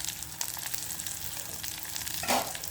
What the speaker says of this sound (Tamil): எல்லாத்தையும் போட்டு வடிவா தாளிப்பம்